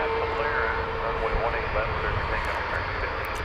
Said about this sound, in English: It's flight 769 going to Ontario, California.